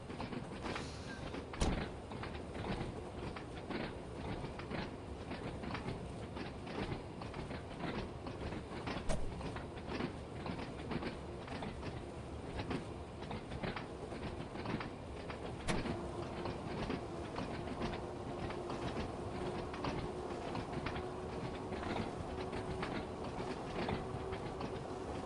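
A train runs in the Train Sim World 2 game. It holds a steady rolling rumble with a rhythmic clickety-clack of wheels over rail joints the whole way through, and no one speaks.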